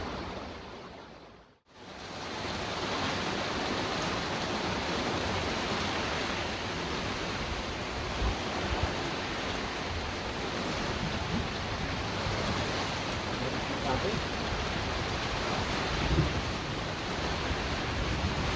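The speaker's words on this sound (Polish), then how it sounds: "to już można nazwać konkretnym deszczem" A steady, loud wash of heavy rain falls in a garden after a brief cutout at the start, with no voices.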